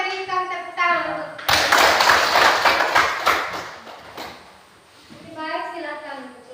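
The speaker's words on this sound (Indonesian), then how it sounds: "kita berikan tepuk tangan untuk" Classroom of students breaking into brisk group clapping for a presenting group, a loud burst lasting a few seconds that tapers off, with a voice speaking before and after.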